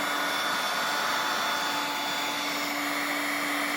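Heat gun blowing hot air over scuffed plastic on a Honda 300 ATV, a constant close blower roar with a faint steady whine, unbroken for the few seconds with no voices.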